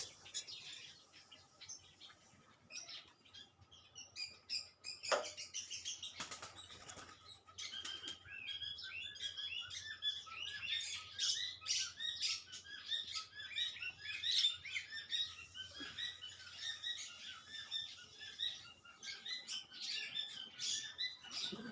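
Young foreign-breed pigeons chirp and call steadily at close range, with repeated bursts of wing flapping mixed through the calls.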